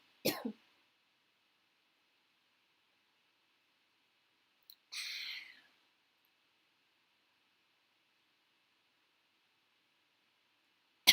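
A person coughs twice, short sharp bursts separated by several seconds of near silence, close and moderately loud, with another brief sound at the very end.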